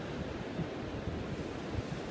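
Ocean waves roll in at the seaside with a continuous low wash of surf and wind buffeting the microphone, steady and unbroken with no voices.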